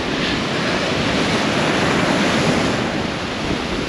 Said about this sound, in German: Und es ist ganz schön windig und wellig.